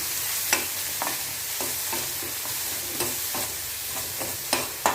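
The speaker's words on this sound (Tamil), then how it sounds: "அவ்வளோதான் வெங்காயம் வதங்கியாச்சு" Onions sauté in a pan for sambar rice, a steady sizzle of frying under repeated scraping stirs of a spoon against the pan, close and continuous with no talking.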